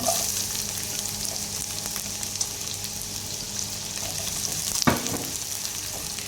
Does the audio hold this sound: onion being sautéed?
yes